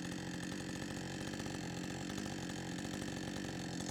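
Chainsaw in an Alaskan chainsaw mill ripping boards from a tree trunk, running loud and steady at full throttle without a break, its dense buzzing drone close to the listener.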